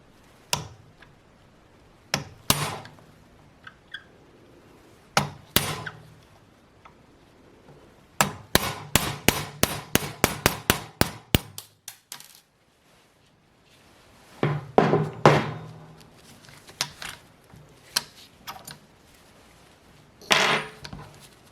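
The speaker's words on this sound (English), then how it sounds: "punch the retaining pin out using a 1/16 inch pin punch" A hammer drives a 1/16 inch pin punch against the retaining pin of an SKS rear sight, giving sharp metallic taps, first a few spaced strikes, then a rapid run of about a dozen, then more scattered hits, all close and loud.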